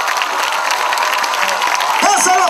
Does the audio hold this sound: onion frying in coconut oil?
no